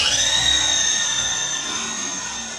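Traxxas No Prep Drag Slash RC car launching off the trans brake, a high-pitched electric motor whine that holds loud and steady for a couple of seconds.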